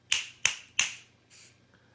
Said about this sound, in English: So if you clap 3 times